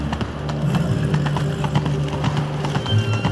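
Roach, a horse in The Witcher 3, trots with steady clip-clopping hooves close by, a brief whinny and soft background music underneath.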